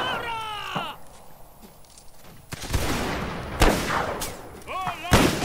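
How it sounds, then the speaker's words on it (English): Musket volleys crack out in the Mount & Blade: North and South video game, with several sharp loud shots bursting across a battlefield amid game ambience and faint background noise. "Form a line and we're gonna fire."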